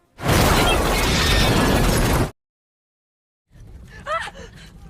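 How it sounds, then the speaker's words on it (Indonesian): A generator explodes in a film after something burning is thrown into it: a loud, roaring blast holds steady for about two seconds and cuts off abruptly, then after a short silence a quieter, noisy passage follows with some whistling tones. "melemparkan sesuatu yang telah terbakar ke generator sehingga ledakan pun terjadi"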